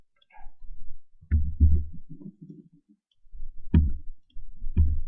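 Dates being typed on a computer keyboard, short clusters of close, soft key clicks separated by brief pauses.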